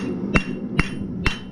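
A blacksmith hammers hot steel on an anvil while shaping a leaf for a bottle opener, three sharp, ringing strikes spaced evenly about half a second apart over a low steady background hum.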